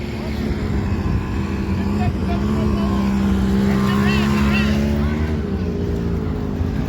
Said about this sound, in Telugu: ఇవి చిన్న స్కూటర్లు,